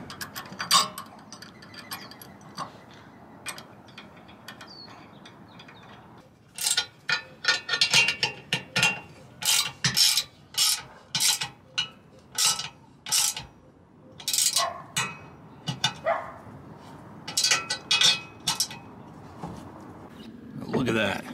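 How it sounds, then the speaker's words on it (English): Ratcheting wrench tightening a nut on a vehicle tow setup, rapid close clicking bursts in repeated strokes with short pauses, following a stretch of quieter mechanical handling. "I just like a ratcheting wrench."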